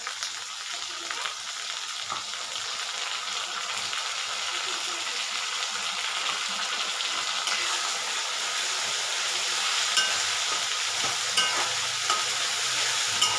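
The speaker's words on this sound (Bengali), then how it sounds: "এরপর আমি মশলাটাকে ভালো করে কষিয়ে নিয়ে ঢাকা দিয়ে দেব 5 মিনিটের মতো" Ginger, garlic and onion paste masala fries in a pan, a continuous hissing sizzle broken by occasional stirring scrapes, steady and close with no one speaking.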